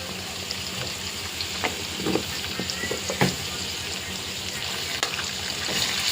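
Ginger paste frying in a curry in a pan, a steady soft sizzle with a few scraping stirs, quiet and continuous with no talking.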